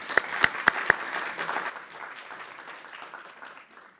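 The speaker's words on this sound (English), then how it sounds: "So a round of applause for everybody on stage." Conference audience applauding a panel of experts on stage, a few sharp close claps at the start, then a softer spread of clapping that thins and fades out.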